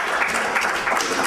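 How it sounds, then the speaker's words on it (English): A brief burst of steady applause fills the room for three men being coached in social skills, dense clapping throughout without a break. "Give all three of them a round of applause."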